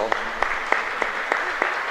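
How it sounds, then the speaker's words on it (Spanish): Congregation at a Catholic Mass in a chapel in Asunción claps in a steady, rhythmic unison beat, loud and close, about three claps per second. "Fuerte aplauso."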